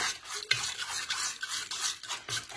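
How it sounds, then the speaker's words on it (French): A spoon stirring a thick homemade anti-aging face mask mixture in a pot over low heat, scraping in repeated strokes with soft sloshing, close and moderately quiet, no voices. "Il faut bien mélanger, sinon ça va faire des grumeaux. Je mélange."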